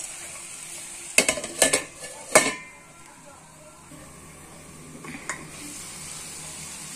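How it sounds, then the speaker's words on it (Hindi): Finely chopped onions soften in a pan with a faint background sizzle, interrupted early by a few sharp metal clanks of a spoon against the pan, then a quieter stir later. "तो इसमें गलने देते हैं प्याज को।"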